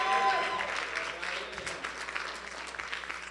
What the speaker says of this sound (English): clap for that